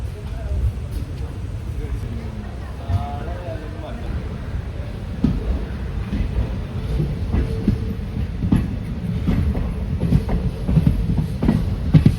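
From inside a passenger train running from Nilambur Road toward Shoranur Junction, the carriage gives a loud, steady rumble with rhythmic clicking and clattering of wheels over rail joints, while faint voices murmur in the background.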